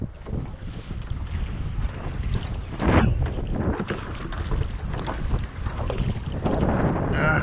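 Wind gusts roar across a lake during a fishing trip to check set lines for perch and ide, a continuous rumbling buffet on the microphone with surges and the faint slap of water against the boat.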